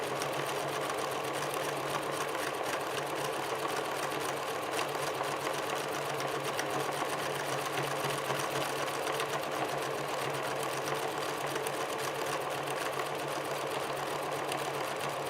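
A sewing machine runs a circular seam at a steady, moderate whir. The sound stays unbroken and fairly soft for the whole stretch.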